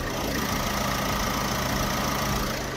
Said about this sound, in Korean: 이렇게 영상에서 듣는 것처럼 디젤 엔진이라 어느 정도 소음은 있지만